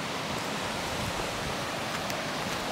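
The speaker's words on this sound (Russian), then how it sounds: "Шумит речка рядом." A spring river stream rushes nearby along a wet forest trail, a dense steady roar of water filling the whole span with no voices.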